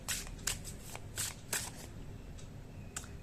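Tarot cards being shuffled by hand, a series of crisp papery riffles and flicks coming in quick irregular bursts, close and fairly quiet against a faint background hum.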